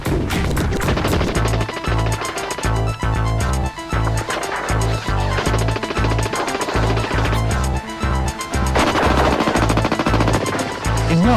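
Machine gun fire in a military grazing-fire demonstration, loud sustained automatic bursts rattling almost without pause, with a brief dip midway before another long burst.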